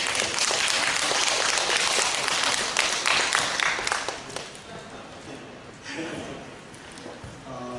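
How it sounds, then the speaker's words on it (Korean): Workshop audience applauding after a training session, a dense broadband wash of clapping loud through the first half, then thinning and fading with a murmur of voices. "박수 한번 주세요. 박수"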